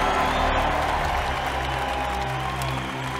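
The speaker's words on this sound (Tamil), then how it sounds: "இது மாற்றத்துக்கான கரகோஷம்." A large crowd applauds and cheers in a steady, unbroken roar, with distant voices blended into the din, in a scene from a Tamil-dubbed Mammootty film.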